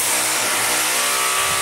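A vehicle engine running steadily after a carburettor fix, a close, loud, continuous hum with no voices over it.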